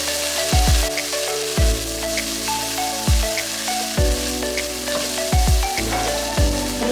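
Steady sizzle of onions and garlic frying in olive oil in a pan, with a few sharp clatters and bumps of utensils recurring every second or so, no voices.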